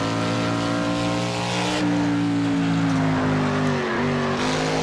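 A Caper Monterey Stockcar engine in the racing video game Project Cars pulls hard under throttle, a loud steady roar climbing in pitch, easing briefly and rising again, with no talk over it.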